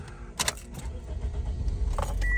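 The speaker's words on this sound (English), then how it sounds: "I'll turn off the car." A car with a freshly cleared fault code, under diagnosis for its air-fuel ratio sensor, is shut off: a few sharp clicks ride over a steady, close low engine rumble with no voices.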